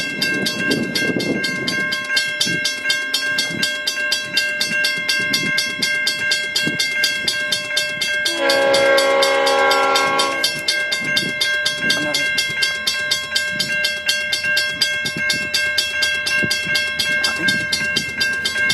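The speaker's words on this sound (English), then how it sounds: "You can hear the whirring of the train." Beer train hauled by three locomotives passes close by, a steady whirring rumble with a rhythmic clatter of wheels and a long, loud chord of the horn midway; a voice speaks briefly near the start.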